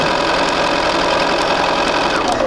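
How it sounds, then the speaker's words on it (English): Sewing machine stitching quilt fabric, a loud continuous rapid mechanical chatter of the needle running steadily at close range without pause or talk. "Just gonna go ahead and continue to sew all the way down."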